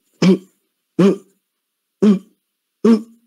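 A voice imitates a harsh, barking croup cough, like a seal's bark, four times, each short bark separated by about a second of silence.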